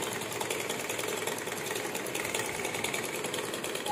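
A sewing machine stitches a straight seam on a pair of pants, a fast steady mechanical chatter at moderate level running the whole time without pause or voices.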